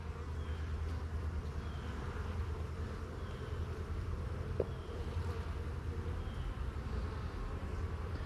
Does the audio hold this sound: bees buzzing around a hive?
yes